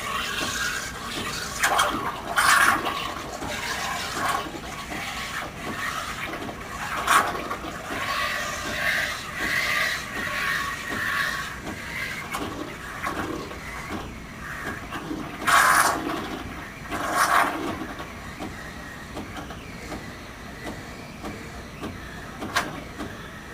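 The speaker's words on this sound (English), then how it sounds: "Then go back to frothing and gently swirl it around" Saeco Syntia espresso machine's Pannarello steam wand frothing milk in a container, a steady hiss and gurgle with bursts of louder sputtering every few seconds, fairly quiet throughout.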